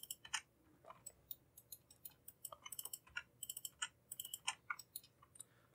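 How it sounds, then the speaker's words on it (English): Computer keyboard keys are pressed during 3D modeling work in Autodesk Maya, scattered crisp clicks in irregular bursts and clusters, close and fairly faint against a quiet room. "I'm pressing G on my keyboard for repeating the same command"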